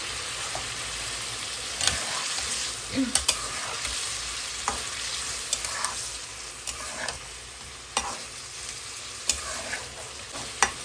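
Masala for a prawn curry, with sugar added, fries in a pan. A steady sizzle runs throughout, broken by intermittent stirring scrapes and small clicks, fairly close and moderately loud, with no talk.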